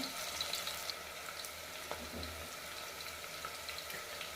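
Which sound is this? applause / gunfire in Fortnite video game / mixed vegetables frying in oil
mixed vegetables frying in oil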